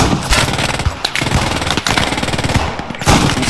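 Machine gun fire in the video game Post Scriptum, loud rapid bursts of close shots in a dense rattling stream with brief gaps between volleys.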